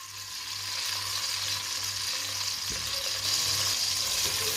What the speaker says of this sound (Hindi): प्याज को हल्का सा ब्राउन कर लेंगे।